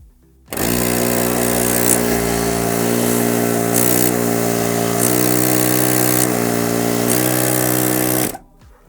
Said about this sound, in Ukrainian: Давайте під'єднаємо наживлення 12 вольт. І послухаємо, як буде спрацьовувати компресор.